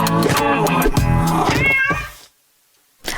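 A cat meows loudly and close by in several drawn-out, wavering calls, then falls silent before a final short sound.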